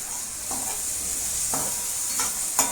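Ridge gourd sautés in oil with a steady soft sizzle, broken by a few distinct scraping stirs of the spoon at even intervals.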